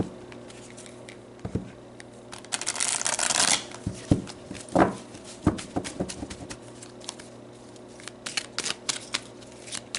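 Oracle cards being shuffled by hand in a quiet room, with a long, dense riffling burst followed by scattered soft flicks and taps of cards, close and fairly loud.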